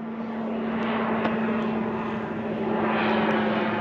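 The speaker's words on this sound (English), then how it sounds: "we could never record here without an airplane flying over" An airplane flies over an RV campground near an airport, its propeller engine droning as a steady, loud hum that swells slightly toward the end, with no talking.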